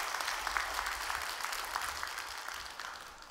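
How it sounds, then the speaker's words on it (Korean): A church congregation claps together during an early-morning prayer service at a church in Gunsan, a soft, even patter of many hands heard from a distance, quiet throughout and without talk. "우리 친교위원회 위해서 여러분 박수 한번 해주셔요."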